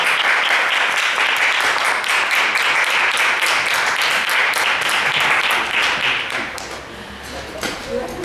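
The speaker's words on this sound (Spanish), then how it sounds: "le damos un fuerte aplauso por todas estas explicaciones" Audience applause at a comic book presentation in Madrid: dense, sustained clapping from a crowd, steady and fairly close for most of the stretch, thinning slightly near the end.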